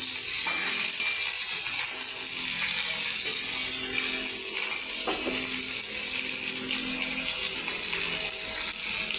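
Potatoes and chopped onion frying in a pan for a potato and bhola fish curry give a steady, dense sizzle that runs unbroken throughout, with faint stirring and no voices.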